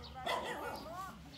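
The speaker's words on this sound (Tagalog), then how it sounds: "So, may mga aso dito." Dogs near a mountain stopover give a short bark followed by whining, whimpering yips, close and moderately loud.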